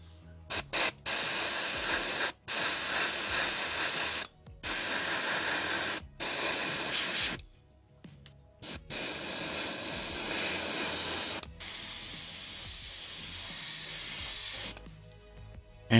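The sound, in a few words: spray painting black green paint on SU-76M model underside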